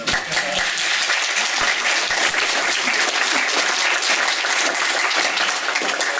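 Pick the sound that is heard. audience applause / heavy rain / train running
audience applause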